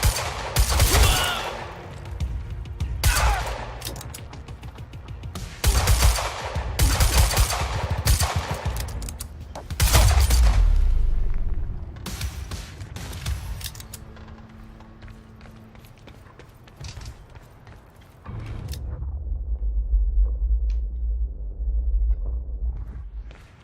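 Dense gunfire from the video game Quantum Break: bursts of rapid automatic shots and booming single blasts crowd the first half, then thin out into scattered shots with low rumbling effects and game music.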